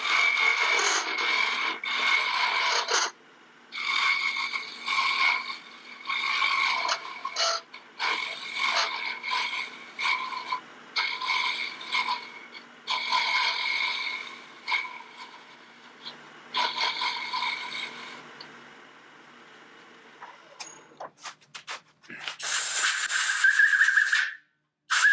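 Sharp carbide tool lightly cutting a wooden ornament spinning on a lathe, a steady whirring scrape broken by short pauses, close and moderately loud, ending in a few brighter scraping bursts.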